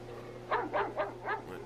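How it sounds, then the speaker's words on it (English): A dog in the Farming Simulator 25 video game gives four quick, evenly spaced barks at moderate distance over a low steady background hum. "That dog's barking and stuff."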